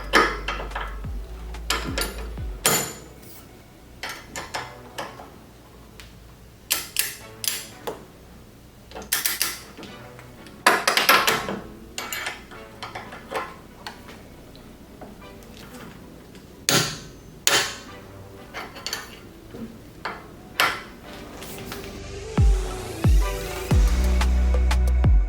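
A wrench tightening a strut nut on a BMW F80 M3 during a lowering-spring install gives scattered metallic clicks, taps and clanks in an irregular rhythm, close by, with a heavier low rumble near the end.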